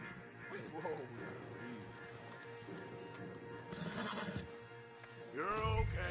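A horse whinnies in Red Dead Redemption, a shrill quavering neigh early on and another loud, close one near the end, over hoof-and-snort game ambience while people talk in between.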